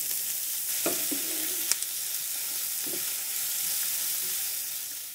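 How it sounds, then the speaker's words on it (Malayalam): Two medium-cut onions sautéing in oil with a little salt in a pan, a steady bright sizzle broken by a few soft stirring scrapes and taps, close and continuous with no talking. "മീഡിയം സൈസിൽ കട്ട് ചെയ്ത് 2 സവോള നമുക്കൊന്ന് വഴറ്റിയെടുക്കാം."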